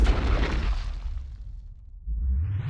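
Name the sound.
12-gauge shotgun firing rock salt into a watermelon point blank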